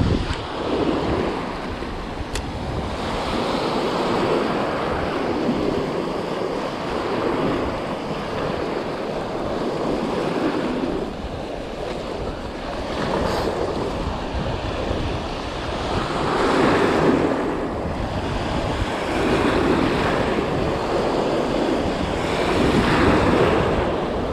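Wind and surf on a sea coast in west Zealand in mid-November, with waves rushing in a steady, loud wash and gusts buffeting the microphone, swelling in occasional surges and no voices heard.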